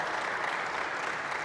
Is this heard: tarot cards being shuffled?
no